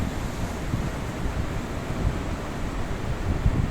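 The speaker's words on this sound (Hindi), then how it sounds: "केवल लहरों का शोर" Morning ocean waves wash ashore at Appikonda Beach near Visakhapatnam, a continuous low rushing surf mixed with wind, without any voices.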